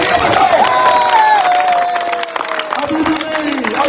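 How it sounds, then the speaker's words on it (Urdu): Crowd at a political rally in Lahore clapping and cheering loudly, a dense wash of applause and voices with a raised shout sliding through it. "تالیاں بجاؤ"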